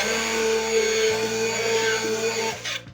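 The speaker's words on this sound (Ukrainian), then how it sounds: "Такий міксер, сметана, ось стільки." An electric mixer whirring in sour cream to churn homemade butter, a loud close motor whine with a slight shift in pitch partway through, then winding down as it stops.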